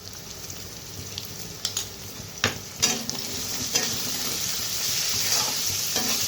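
Salted potatoes fry in a pan and are stirred with a utensil, which scrapes and clinks a few times over a steady sizzle that grows slightly louder toward the end. Nobody speaks.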